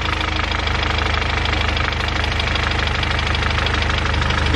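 A steady mechanical tapping from a VW Golf R MK7 engine with a broken spool valve, heard at close range over a constant, loud idle drone.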